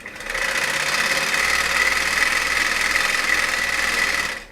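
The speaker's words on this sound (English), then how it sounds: "With your next setup, started cranking the camera, flip the lever, and then it would fade up" A Bell & Howell 2709 film camera being hand-cranked, giving a steady, dense mechanical whirring and clattering that runs continuously and close at hand from start to finish.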